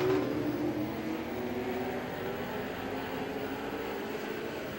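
Race cars in a nose-to-tail field at Star Speedway, a steady distant engine drone from the pack rolling down the back straightaway, continuous and fairly faint with no voices.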